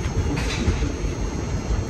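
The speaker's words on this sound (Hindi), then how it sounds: "इसकी तो जो टर्बो की आवाज़ ऐसी आ जाती है जैसे जेट इंजन की आती है।" Continuous loud rumble of a passing diesel locomotive on the Sirsa Express route toward Delhi, with a high steady jet-like turbocharger whine riding over the low engine drone.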